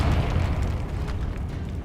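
A Confringo explosion spell bursts in the Hogwarts Legacy video game, a dense low rumbling boom that fills the whole moment and stays loud and sustained throughout.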